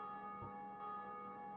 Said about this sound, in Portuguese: esse sino é importante